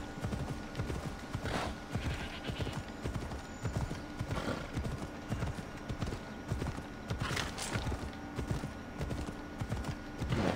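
Horse hooves clip-clop steadily while a horse neighs now and then in the Assassin's Creed Odyssey video game, a big mount galloping in a continuous, fairly loud rhythm.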